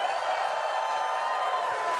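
A large convention crowd at a game developer panel in a PAX East hall cheers and whoops on cue, a loud, sustained wash of voices that stays steady throughout.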